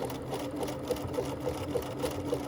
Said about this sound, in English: It's going to sew a bar tack.